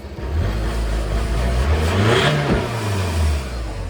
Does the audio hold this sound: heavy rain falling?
no